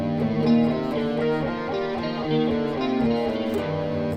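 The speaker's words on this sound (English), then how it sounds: "the natural minor scale is called the Aeolian mode. It sounds like this." An electric guitar steps note by note through a natural minor scale, with clear distinct tones in a steady run and light effects coloring the sound, and no talking over it.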